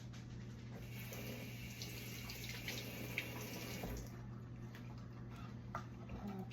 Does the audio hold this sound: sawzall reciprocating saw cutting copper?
no